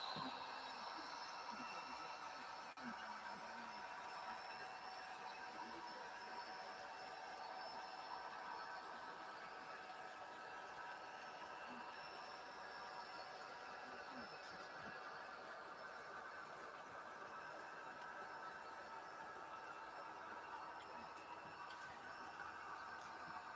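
A model train locomotive sound decoder plays a continuous rumbling engine drone with faint mechanical clatter, holding steady and fairly quiet for the whole stretch.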